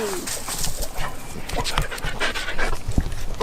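A dog pants rapidly and steadily close by in an abandoned building, with faint whimpers and bird chirps mixed into a noisy background and people talking over it.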